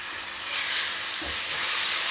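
Tomatoes with a pinch of salt fry in a pan over high flame for a Kerala egg roast, giving a steady, close hissing sizzle that holds throughout without a break.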